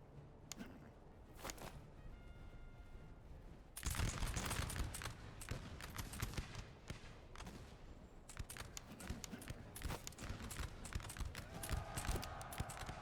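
Musket volleys crackle in the Master of Command game during a US Continental Army battle, dense ragged bursts of distant gunfire that swell after a quieter start and keep rolling on, with no talk.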